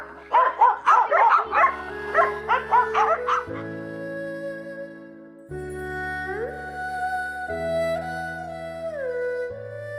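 Rescued shelter dogs give a rapid burst of loud, close yips and barks, followed by softer whines. Musical tones play underneath and continue after the barking stops.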